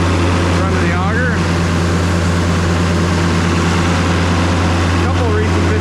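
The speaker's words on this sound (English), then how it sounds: "1600s out here chugging away, running the auger." A 1600 series combine with a diesel engine and a left-hand PTO lever runs the auger during corn harvest, its steady heavy chugging drone loud and unbroken throughout.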